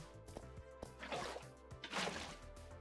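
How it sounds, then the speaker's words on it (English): In Minecraft with the Botania mod, water is poured into a petal apothecary, making two short splashing bursts over quiet background music. "we can actually fill this petal apothecary with water"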